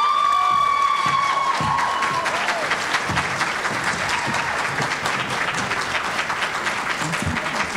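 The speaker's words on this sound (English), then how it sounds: "No clapping, please." Audience applause with some cheering fills a room at a candidates' night for the New York State Senate District 7 race, steady and close throughout, with raised voices mixed in.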